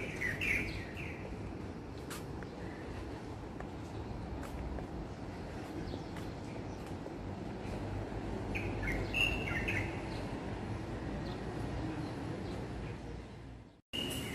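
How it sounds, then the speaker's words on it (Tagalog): Scattered bird chirps and calls over a steady outdoor background hiss, several birds calling intermittently at moderate distance. "Maraming ibon."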